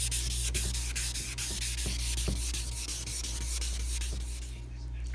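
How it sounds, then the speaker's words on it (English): Wet sanding of a headlight lens from a 2004 Acura TSX with 1000-grit paper: steady close rubbing and scrubbing strokes in a continuous rhythm over a constant low hum, with no voices. "So lots of wet sanding, but it's not that hard to do."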